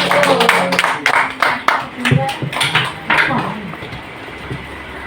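Audience applause at an Indonesian school cultural presentation, a short spell of scattered clapping heard alongside a speaking voice, fading toward quiet at the end.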